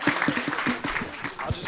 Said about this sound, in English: Join me in a round of applause to the Borough President.